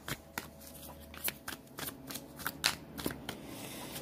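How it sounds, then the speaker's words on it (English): Tarot cards being shuffled by hand, a run of quick crisp riffling bursts close to the microphone, fairly quiet and with no talking. "then I will shuffle those mothers for you all"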